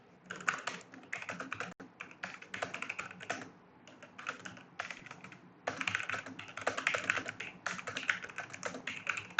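Fast bursts of typing on a computer keyboard while writing code in a text editor, close and steady with brief pauses between runs of keystrokes.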